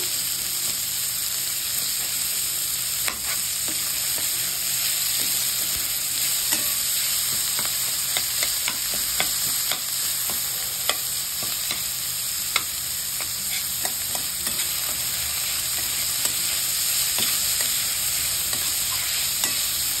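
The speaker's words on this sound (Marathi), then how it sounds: "कांदा पण आपल्याला गुलाबी रंगावर परतून घ्यायचा मस्त" Chopped onion fries and is stirred in a pan for kurdai bhaji, giving a continuous, even sizzle with frequent small scraping clicks from the spoon, close and steady with no talk.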